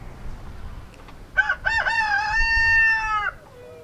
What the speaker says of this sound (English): And the rooster's got to pipe up, of course.